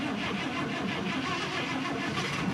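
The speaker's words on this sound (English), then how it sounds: "let's crank her again." A vehicle engine cranks steadily and rumbles toward starting after a melted wire is replaced, a continuous loud mid-range mechanical drone with a roughened idle, close by and with no voices over it.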